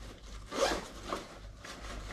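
A backpack compartment zipper slides open in a couple of quick, rasping pulls, close and fairly quiet, with no talking.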